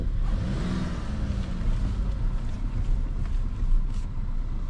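A car engine rumbles steadily and loud inside the cabin during a test drive, swelling slightly as it revs, with road and wind noise beneath.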